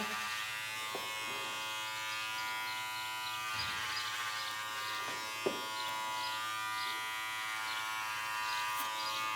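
Electric hair clippers buzz continuously up close while cutting a flattop mullet, a steady tonal hum with slight changes in load and a few soft clicks as hair is cut.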